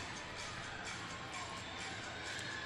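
A gymnastics meet crowd at Minnesota cheers and roars steadily for a dive roll, a dense, sustained wash of many voices with no pauses.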